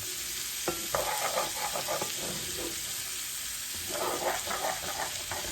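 Liver and onions sizzle in a hot pan with a steady bright hiss, while a utensil stirs and scrapes in irregular bursts close by, and nobody speaks.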